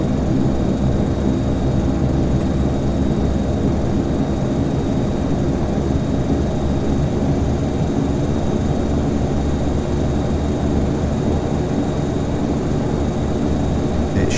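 A Saab 340 twin turboprop airliner in a flight simulator game drones steadily in flight, a dense, unbroken engine and propeller hum that stays loud and even throughout with no voices over it.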